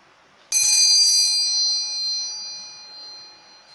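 A single bright bell strike rings out clearly, its metallic tone lingering and slowly fading over a few seconds.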